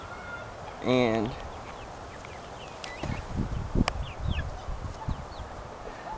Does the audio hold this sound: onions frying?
no